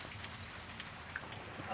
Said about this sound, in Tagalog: Tapos umulan-ulan.